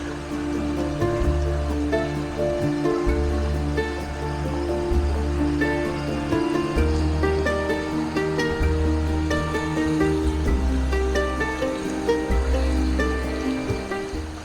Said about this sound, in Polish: ta rzeka wygląda, że jest naprawdę bardzo czysta